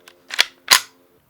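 Two sharp, quick cracks of a .22 rifle fired at a bulletproof Humvee windshield, close and loud, about a third of a second apart, with a soft tick before them.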